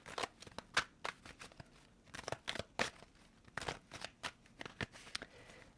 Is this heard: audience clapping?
no